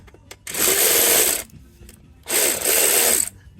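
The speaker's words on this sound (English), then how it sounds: "Loosen up the flywheel bolts." A ratchet loosens the flywheel bolts on a T1N Sprinter in two loud, close bursts of rapid buzzing clicks, each about a second long with a short pause between, and no talk over it.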